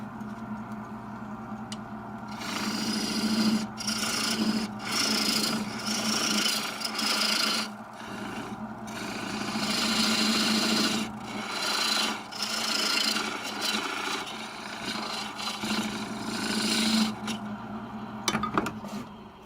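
A gouge rough turning a green wood bowl on a lathe, a continuous rasping, scraping cut that comes in long passes with brief pauses, close and fairly loud.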